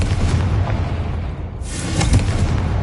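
A Confringo fire spell explodes in the Hogwarts Legacy video game, a loud, deep boom with a rumbling burst that swells again toward the end.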